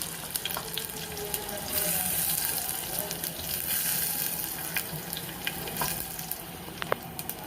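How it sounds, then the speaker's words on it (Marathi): Cumin seeds sizzle in hot oil for a tadka alongside garlic, a continuous close frying crackle with scattered sharp pops and a brief louder burst of sizzling in the middle. "जिरा मस्त तळकून द्यायचा छानपैकी असा"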